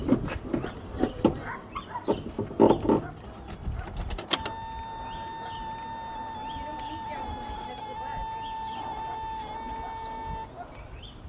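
A car's starter is engaged but fails to turn the engine over, giving a sustained electrical whine and hum after a few clicks, while someone talks nearby outdoors on the street.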